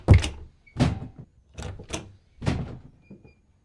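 A front door is opened at home, heard as a close series of about five or six separate clunks and rattles spaced irregularly, with brief silences between them.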